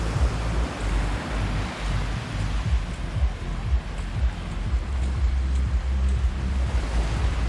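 Ocean surf washes onto a beach at Ao Nang, Thailand, in a steady broad roar with rolling surges, close and loud and buffeted by wind on the microphone, without any speech.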